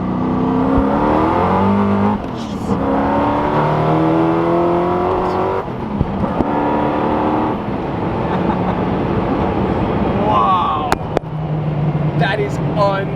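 Hennessey Venom GT pulls hard at full throttle, a loud rising engine roar broken by sharp gear-shift gaps and pops, as excited voices talk over it.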